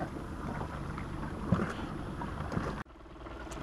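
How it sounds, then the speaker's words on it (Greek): A small motor runs on a fishing boat, giving a low, steady drone mixed with wind buffeting the microphone, then cutting off abruptly shortly before the end. "Βάλαμε το μικρό το μηχανάκι"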